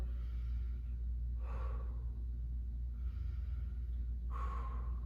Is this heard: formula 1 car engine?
no